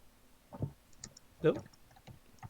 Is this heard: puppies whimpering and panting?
no